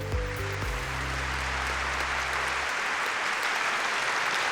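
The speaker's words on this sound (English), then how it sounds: "I'll applaud my own video, why not?" Applause breaks out at a debt advice keynote event right after a presentation video ends, with a low musical tail fading in the first seconds beneath steady, fairly loud clapping that fills the whole stretch.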